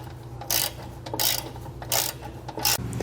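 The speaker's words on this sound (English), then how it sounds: "We now want to come back with a 19mm socket and tighten down our two bolts that are on the outside of our frame." A ratchet with a 19mm socket tightens hitch bolts on a 1997 Ford F-150 frame, with several bursts of rapid clicking ratchet strokes heard close up.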